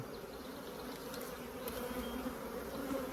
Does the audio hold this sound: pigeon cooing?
no